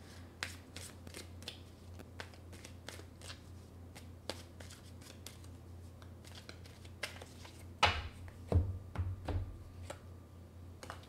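Tarot cards being shuffled and drawn at a reading, soft papery riffles and flicks ticking along steadily, ending in a few sharper snaps and slaps as cards are pulled and laid down.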